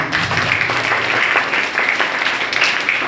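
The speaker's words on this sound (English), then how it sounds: "Then we have a big round of applause for him." Audience at a D.A.V. Girls School program in Mogappair clapping for a student: a close, loud burst of crowd applause, dense and continuous for a few seconds, with a faint murmur underneath.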